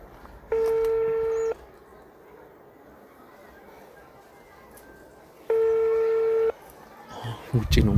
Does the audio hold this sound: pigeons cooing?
no